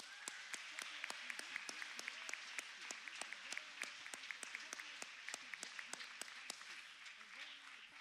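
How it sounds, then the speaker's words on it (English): Audience applause for parents and families at a graduation-style ceremony in a church hall, a few loud individual claps standing out sharply over a steady, moderate round of clapping. "we'd like to give a big round of applause to our miracle parents and families"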